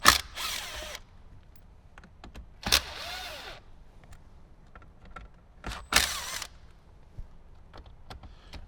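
Screws holding the head unit screen in a Jeep Wrangler JL dashboard are backed out with a powered driver, giving three short, close whirring bursts separated by quiet pauses with light clicks.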